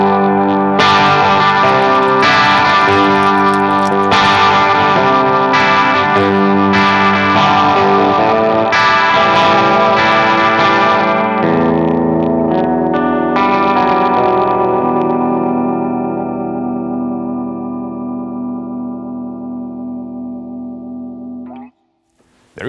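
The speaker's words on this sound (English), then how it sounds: "that's the Harley Benton CH-5 chorus" Electric guitar run through a Harley Benton CH-5 chorus pedal into a dirty amp channel, playing overdriven chords with a shimmering, swirling modulation. It rings out loudly and steadily, then fades to silence near the end.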